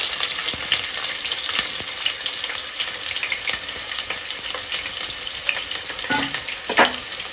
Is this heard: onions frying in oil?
yes